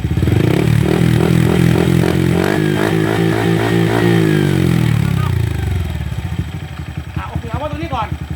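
Honda Wave 110i motorcycle engine idling in normal condition, a steady close putter that runs loud for several seconds before dropping lower with faint rattles, under a man's speech.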